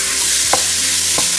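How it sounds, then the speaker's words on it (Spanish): Ground beef sizzles steadily in a hot pot while a spoon breaks it apart, with two sharp scraping strokes standing out over the constant frying hiss, close and fairly loud. "en una olla caliente vamos a poner nuestra carne molida. Y con la ayuda de la cuchara vamos a empezar a picar"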